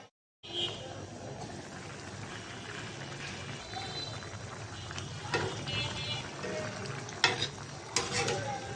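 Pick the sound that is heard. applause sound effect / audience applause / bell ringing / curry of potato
curry of potato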